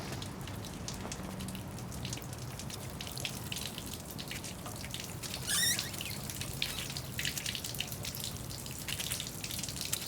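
Water drips and trickles steadily from a flooded main water tank, a continuous faint splashing with a brief louder gush midway, heard from a moderate distance with no talk.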